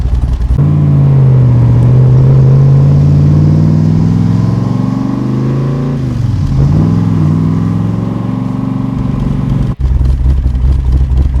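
A 1965 Backdraft Cobra replica with a Ford engine rumbles loudly and close, revving up and down in deep, throaty surges with a brief dip near the end.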